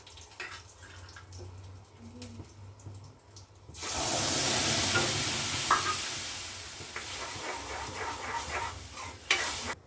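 Chili and cumin are mixed in hot oil in a pan. Quiet kitchen clatter gives way to a sudden loud, broad hiss that holds steady. Softer stirring clinks and scrapes continue beneath it, up close.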